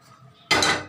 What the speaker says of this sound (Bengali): এই যে ঢেঁড়সগুলো ঢেলে দিলাম